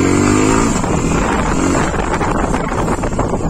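A Suzuki V-Strom 250 motorcycle is ridden, its engine a steady loud drone buried under heavy rushing wind on the microphone, with no clear gear changes.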